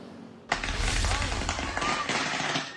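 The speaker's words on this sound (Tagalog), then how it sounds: "Pero hindi fireworks yan dahil mula yan sa pumutok na transformer na kuryente." An electrical transformer on power lines in a city neighbourhood blows with a sudden sharp bang followed by a sustained loud crackling, sizzling burst, resembling fireworks, with faint voices in the background.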